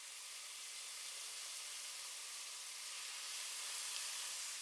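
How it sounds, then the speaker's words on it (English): Marinated beef cubes sizzle steadily in hot oil in a pan, a broad, even frying hiss that holds constant throughout with no talk. "Add the marinated beef cubes to the oil one by one and allow them to sizzle"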